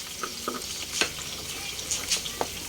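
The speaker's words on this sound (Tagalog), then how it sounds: "Ayan, maggigisa na ako. Inuna ko yung bawang." Garlic sautéing in a pan for Filipino adobo with intestines, a soft, steady sizzle with a few scraping stirs and light clinks, fairly quiet and with no talking.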